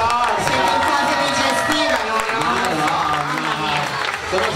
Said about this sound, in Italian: Facciamo sti applausi